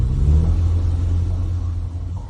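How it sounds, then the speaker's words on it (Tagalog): A car rumbles close by with a steady, loud low engine drone, easing off slightly toward the end as it pulls up. "Kotse. Ito ay kotse."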